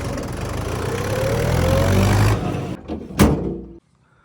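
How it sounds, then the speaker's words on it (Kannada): A Mahindra 475 DI MS SP Plus tractor engine runs with a loud, close diesel rumble that rises slightly, then cuts out, followed by a couple of mechanical thunks before near silence. "ಈ ಟ್ರ್ಯಾಕ್ಟರ್ ನ ಸೌಂಡ್ ಕೇಳಿಸ್ಕೊಳ್ಳಿ."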